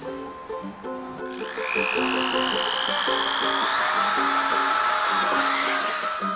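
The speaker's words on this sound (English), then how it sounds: "we actually were able to drill a whole host of holes around the car" A power drill bores holes into the hood of a Cadillac, its motor spinning up into a loud high whine that rises in pitch as the bit bites, steady for several seconds, over a low background hum.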